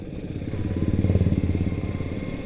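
A restored Honda S90 four-speed motorcycle on a test ride gives a close, steady single-cylinder putter that swells in the middle and eases off again, with no talking.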